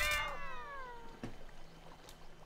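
A single clear cat meow opens, falling in pitch, from a cat standing in for cave spiders in the Satisfactory video game's arachnophobia mode; faint ambient background and a soft click follow.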